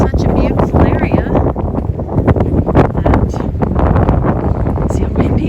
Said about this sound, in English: see how windy it is too